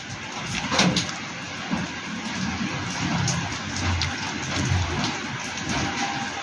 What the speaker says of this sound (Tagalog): So, umuulan dito ngayon guys.